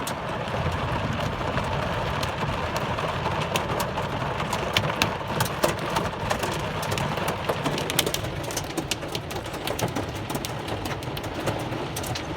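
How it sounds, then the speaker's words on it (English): Hail and heavy rain drum steadily on a vehicle during a July thunderstorm with lightning, a dense continuous patter with sharper individual impacts scattered throughout, loud and close, with no voices. "More hail's hitting the vehicle."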